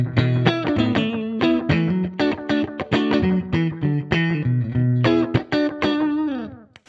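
A Stratocaster electric guitar played with no compressor pedal plucks a quick melodic phrase of ringing notes with a lightly driven tone, close and uninterrupted, ending on a fading chord.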